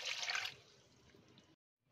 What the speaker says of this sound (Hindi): अब हम इसमें डालेंगे पानी एक गिलास